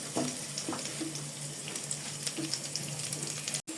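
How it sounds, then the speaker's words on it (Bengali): Onions frying in oil with bay leaf and cinnamon, a dense steady crackling sizzle close by with small stirring clicks and a brief dropout near the end, no talking. "এখন আমি সুন্দর করে তেলের সঙ্গে ভেজে নেব পেঁয়াজগুলোকে।"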